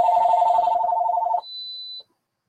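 A cell phone placing a call, sounding a loud, steady electronic ringback tone with a fast pulsing warble, then a thin high beep that cuts off into silence.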